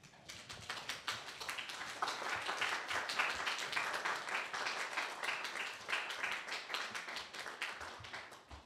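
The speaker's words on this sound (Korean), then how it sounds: "모두 자리에서 일어나 권욱현 유공자님을 큰 박수로 환영해 주시기 바랍니다." An audience rises at a science and technology merit ceremony and gives an honoree long, sustained applause, a dense, even patter of many hands heard clearly from start to finish without speech.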